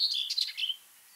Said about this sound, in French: vous entendez que c'est une fourrette grisée